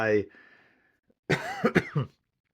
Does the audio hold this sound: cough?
yes